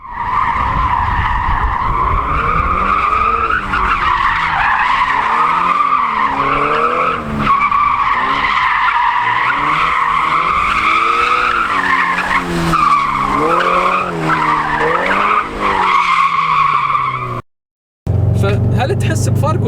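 A tuned Subaru BRZ drifts with tires screeching loudly and continuously, the squeal rising and falling with the slides, while the engine drones underneath and a short silence comes near the end.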